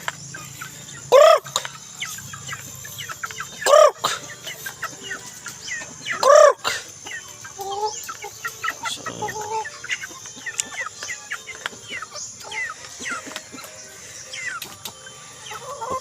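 Chickens on a small farm cluck and call, with three loud, close, drawn-out calls spaced a few seconds apart, then scattered softer clucks and fowl chatter continuing in the background.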